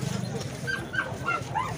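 Dogs yip and whine in short, rising bursts amid the bustle of a crowded dog market at Souk El Grieaa in Casablanca, with people talking over the animals throughout.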